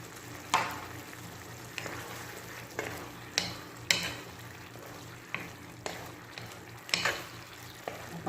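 Sardines sauté with tomatoes in a pan, giving a steady sizzle that is broken up by repeated sharp scrapes and knocks from stirring at a brisk, uneven rhythm, close up and with no talk.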